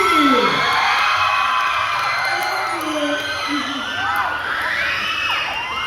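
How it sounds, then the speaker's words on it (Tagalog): Fans at a Kapuso fans day event in Cebu shout and cheer for a team, producing a loud, sustained roar of screams and whoops from a big crowd. Voices rise and fall throughout. "May sigawan na pakan for Barbie's team!"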